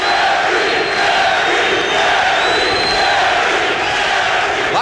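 A packed arena crowd at an IBF bantamweight title boxing bout roars and cheers excitedly in a loud, continuous wall of noise with shouts rising above it, close and sustained throughout.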